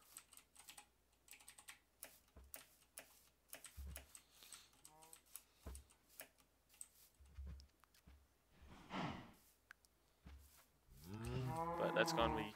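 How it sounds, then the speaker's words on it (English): Cows moo in Minecraft, several low bellowing calls that grow louder near the end, mixed with sparse clicking keyboard keystrokes throughout. "But that's gonna be cows."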